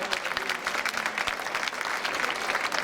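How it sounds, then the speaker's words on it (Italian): A crowd gives steady, sustained applause as a Sardinian folk group, Gruppo Folk Ittiri Cannedu, enters at an evening festival in Orune, the dense clapping fairly near and continuous throughout. "Mi accompagnate con un applauso l'ingresso del gruppo folk Itiri Cannedu."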